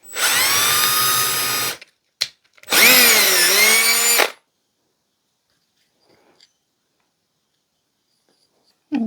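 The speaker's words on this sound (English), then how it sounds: "And I'm going to drill another hole." A power drill whines loudly in two bursts, the second dipping in pitch as it bites in, followed by near silence with faint small clicks.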